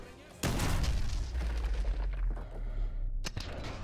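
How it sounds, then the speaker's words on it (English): Gunshots ring out in Modern Warfare 2 Remastered's campaign: a sharp report lands early, followed by a sustained rumbling burst of gunfire that tails off, then another sharp crack near the end. "I shot that dude right in the head."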